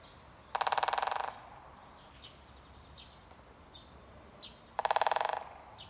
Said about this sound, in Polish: Ten charakterystyczny dźwięk werbli dzięciołów zwiastuje początek zainteresowania czasem godów.